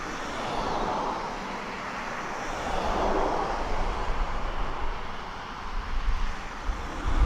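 An F-15 jet lands at RAF Lakenheath, heard as a broad, distant roar of jet engine noise that swells and rumbles steadily over several seconds, with low wind-like rumble beneath.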